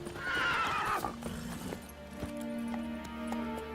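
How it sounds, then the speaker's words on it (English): A horse in The Witcher 3 gives a loud whinny at the start, then hooves clop a few times as it approaches, over a steady in-game ambient hum. "Oh, look, where is my horse coming from?"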